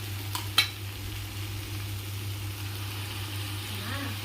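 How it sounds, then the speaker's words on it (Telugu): Potato kurma cooking in a pan after tomato puree is added, with a steady soft sizzle and a couple of brief utensil clicks near the start, all over a constant low hum. "ఇది వేసుకున్న తర్వాత ఒకసారి కలుపుకొని ఒక 2 నిమిషాలు మళ్ళీ ఉడికించుకోవాలండి"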